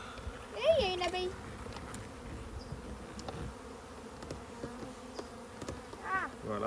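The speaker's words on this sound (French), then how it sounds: "il y a une abeille" A bee buzzes close by outdoors in Alviso, a continuous hum that rises and falls, with a brief voice heard faintly in the background.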